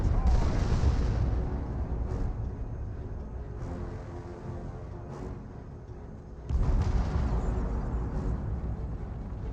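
Missiles and stun grenade explosions boom in the Dawn of War 2 video game, a continuous barrage of rumbling blasts with sharp bursts every second or so, under a commentator's voice.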